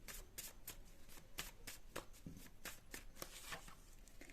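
Tarot cards are shuffled and riffled by hand in a steady run of crisp flutters and snaps, close and fairly quiet, with no voices.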